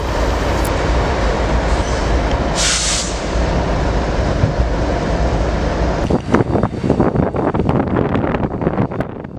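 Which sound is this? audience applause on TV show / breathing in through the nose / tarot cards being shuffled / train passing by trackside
train passing by trackside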